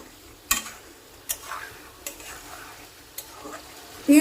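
Pumpkin with hilsa fish head frying in oil is stirred in a pan, quiet sizzling punctuated by four or five sharp, evenly spaced scrapes and clacks of the spoon against the pan, near and without talk.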